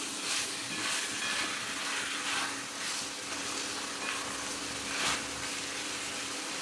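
Brinjal curry sizzles in a frying pan as it is stirred and mixed, a continuous soft hiss with a few louder bursts of scraping, fairly quiet and with no voices.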